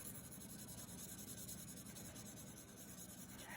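Pencil sketching a rough shadow on paper turned sideways, a steady close scratchy rubbing that continues without pause and with no talk.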